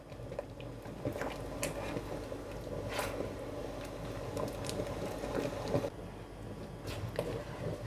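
A pot of Nigerian ogbono soup is stirred continuously, giving a thick, wet squelching and scraping with soft bubbling, steady and close for several seconds.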